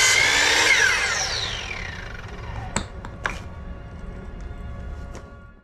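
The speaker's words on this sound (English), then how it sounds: "I'll run one of my Cortex screws down into it to hold it there." A power drill drives a Cortex screw into a composite decking board on a lake-view deck build, with a short high whine that winds down. A few sharp clicks and taps follow, close and fairly loud.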